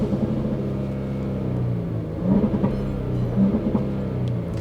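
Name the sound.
Jaguar F-Pace engine revving in neutral, sport mode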